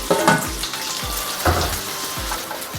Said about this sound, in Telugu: రెడీ చేసుకున్న ఫిష్ వేసుకొని ఒక 2 మినిట్స్ మగ్గించుకోవాలి